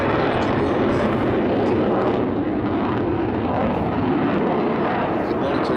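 Eurofighter Typhoon fighter jet performing a knife-edge pass at an air show, a loud, continuous broadband engine roar filling the whole stretch with steady intensity, an announcer's voice faintly blended underneath.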